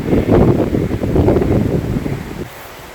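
Strong wind buffeting outdoors, a steady low roar of gusts that drops off abruptly near the end.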